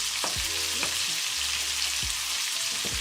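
Shrimp, scallops and fish sauté in a pan with a steady, even sizzle and a few soft stirring scrapes, close and with no talking.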